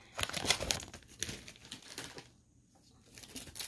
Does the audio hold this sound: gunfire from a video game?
no